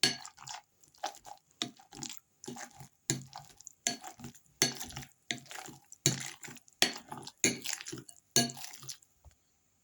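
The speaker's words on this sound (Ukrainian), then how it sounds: "буду гарно розминати цей сир" Repeated soft squelching and scraping as cheese is mashed with egg in a bowl for a macaroni-cheese bake, in irregular bursts with short pauses, close and fairly quiet.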